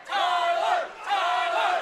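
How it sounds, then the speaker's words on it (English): Local crowd cheering loudly at an amateur MMA fight, two swelling roars of voices rising and falling in quick succession, close and dense. "this local crowd is coming alive for Tyler Mangicaro"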